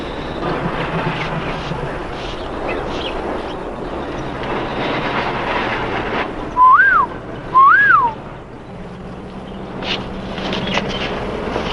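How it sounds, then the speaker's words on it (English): A man gives a signal whistle: two short rising-and-falling notes a second apart, sharp and clear over a low, steady rumble like a train. "That was his whistle."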